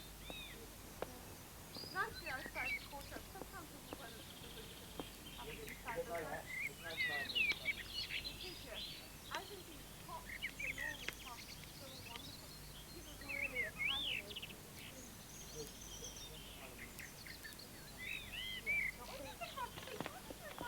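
Small garden birds chirp and sing around a terrace cafe in a landscaped park garden, with scattered bright calls throughout and faint voices in the background.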